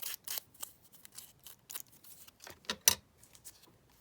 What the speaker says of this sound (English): Trim that down like that.